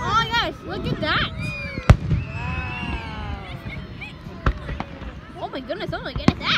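Independence Day fireworks exploding, sharp cracks and booms scattered at irregular intervals, some close and loud, under excited chatter and exclamations from people watching, with whistling rising tones between bursts.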